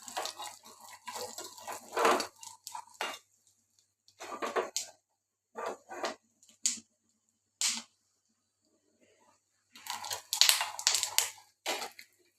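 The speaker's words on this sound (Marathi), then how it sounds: "तुम्ही बघू शकता आपले शेंगदाणे चटचट वाजत आहेत" Peanuts roasting in a dry pan give off bursts of dry crackling and rattling clicks, separated by quiet gaps. The sounds are close but fairly soft, with no talking.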